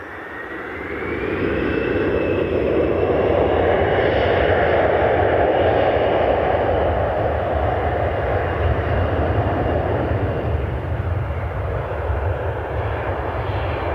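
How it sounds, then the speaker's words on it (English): A CRJ regional jet taxies at Cleveland Hopkins airport on a smoky evening, its engines giving a loud, steady roar that swells in after the first second and holds near and continuous. "There's the last CRJ taxiing into view"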